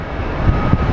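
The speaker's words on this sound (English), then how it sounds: "American Airlines 765 coming from Philadelphia" An American Airlines airliner at Phoenix Sky Harbor International Airport gives a steady, broad engine roar, loud and continuous through the moment with no talking over it.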